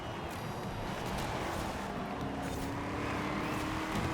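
A Koenigsegg accelerates through a corner in Forza Horizon 4, producing a steady, fairly quiet engine roar with a faint rising tone.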